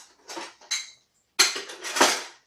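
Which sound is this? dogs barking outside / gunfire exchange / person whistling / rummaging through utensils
rummaging through utensils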